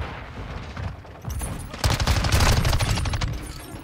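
MX9 submachine gun fired in a video game, heard as fast automatic bursts that start moderate and build into a louder, denser stream of shots through the second half.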